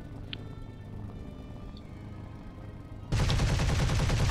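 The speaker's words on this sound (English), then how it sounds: "what happens if you shoot your guns on the 109G6" Guns on a Bf 109 G-6 fighter open fire in War Thunder after a quiet stretch of low engine hum, becoming a loud, dense, rapid stream of shots that fills the last second or so.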